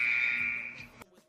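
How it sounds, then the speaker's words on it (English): An electronic buzzer drones steadily for about a second, loud and close, then cuts off abruptly, leaving a faint tail of background. "Oh, that's the buzzer, my guy."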